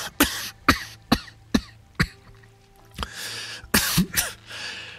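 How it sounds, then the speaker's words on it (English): A man gives a series of harsh, wet, phlegmy coughs in a regular rhythm, about six sharp bursts, then a pause, followed by a rougher cluster of coughing and throat clearing, all close and loud. "Another wet cough forced him to catch his breath."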